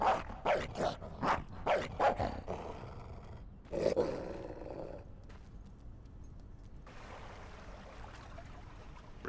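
Game dog from Fable III gives a run of loud, rhythmic barks and roars, about six in quick succession, then one more burst before fading into quieter ambient rumble.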